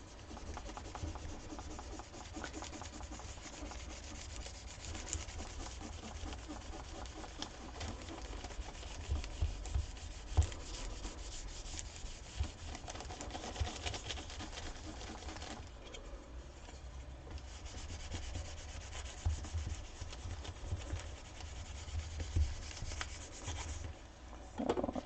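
Paper is rubbed steadily over a printing block to transfer an image for offset printing with multiple blocks. The scratchy, close, continuous rubbing carries on with small uneven bumps throughout.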